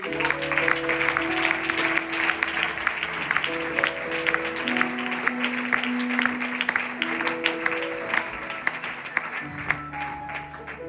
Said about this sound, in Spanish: Un aplauso para nuestro Dios.